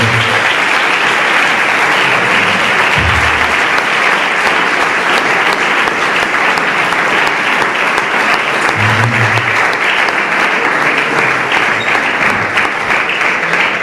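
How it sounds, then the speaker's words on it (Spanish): A church congregation at a retreat claps together in a loud, sustained round of applause that holds steady from start to finish, with faint low sounds underneath. "Un aplauso a la palabra del Señor."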